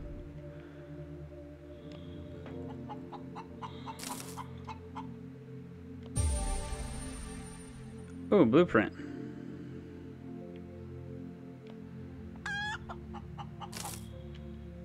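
In the space survival game Breathedge, a chicken clucks in a few short, sharp bursts amid electronic game effects and beeps, while someone talks briefly.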